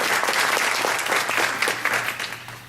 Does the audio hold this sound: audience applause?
yes